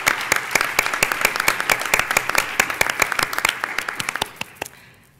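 Audience at an annual research association conference business meeting applauding, with distinct individual claps in a fairly sparse, quickening rhythm that thins out and stops just before the end.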